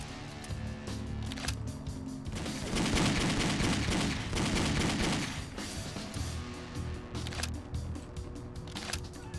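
Gunfire in the video game Driv3r, bursts of rapid shots over game music and ambience, building to a dense loud fusillade midway before easing back to scattered shots.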